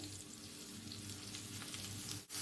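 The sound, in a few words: sautéing onion, garlic and bell peppers in a pan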